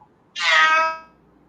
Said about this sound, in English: I had a cat walk into the place I'm sitting at